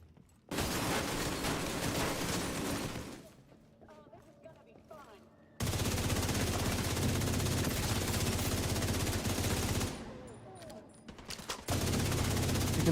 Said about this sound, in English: I just found an ammo stockpile.